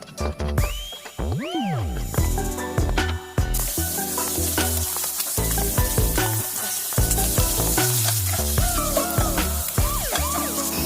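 Protein for fried rice sizzles in a pan while being stirred, giving busy clattering and scraping over a continuous frying hiss, with a brief squealing tone near the start.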